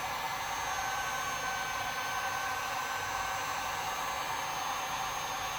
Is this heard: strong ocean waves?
no